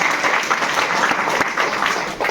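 Applause from an audience at a business opportunity meeting in Isuapur, Chapra, a steady dense patter of clapping that fills the whole moment without talk.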